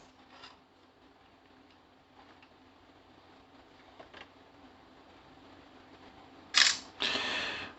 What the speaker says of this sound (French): on va essayer de prendre une petite photo ici